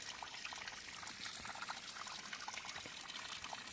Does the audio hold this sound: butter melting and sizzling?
no